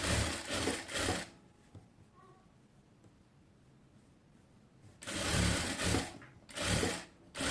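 Sewing machine running a top stitch on a girl's half pants, two bursts of close whirring stitching separated by a long quiet stretch with faint handling noise.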